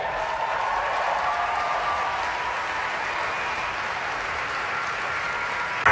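Sustained applause from an audience at a SAG-AFTRA awards ceremony, a dense, steady wash of clapping that holds at an even level throughout with no voices breaking through.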